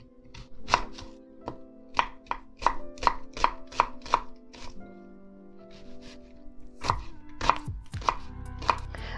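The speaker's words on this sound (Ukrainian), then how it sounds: "Нарізаємо цибулю кубиками." A knife chops an onion into cubes on a cutting board in quick, regular strokes, with a short pause midway before the chopping resumes.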